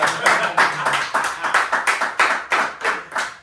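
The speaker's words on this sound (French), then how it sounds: "mesdames et messieurs, faites du bruit pour M8, a.k.a. Mamadou Dégard." An audience claps in a steady, rhythmic beat, the sharp claps fairly close and evenly spaced, with no voices over them.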